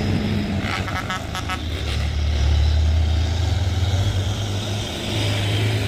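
Heavy trucks hauling construction equipment drive along a road during a bus trip, a steady loud low engine drone and road rumble that swells midway, with faint higher whines early on.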